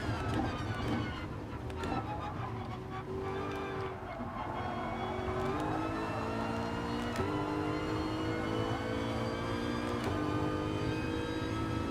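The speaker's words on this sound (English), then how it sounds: "Cars sound glorious, that is for sure, especially this Aston." Aston Martin race car in a racing game, its engine droning loudly and steadily through gear changes with rising and falling pitch, no talk over it.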